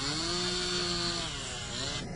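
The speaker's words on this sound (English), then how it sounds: "This powerful chainsaw is designed to cut through hard objects like ice easily." Powerful chainsaw cutting through ice, a steady, loud whining engine drone with a grinding, sawing texture that holds for about two seconds, then eases off slightly.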